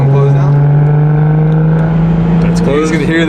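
A BMW 135i with an N54 single-turbo engine and its exhaust muffler valves closed revs loudly and steadily, a sustained low drone holding throughout, with a brief change in pitch near the end.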